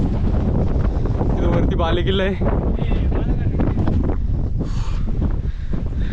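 Strong wind buffets the microphone on the hilltop of Mruggad fort, a constant loud rumbling roar under someone talking.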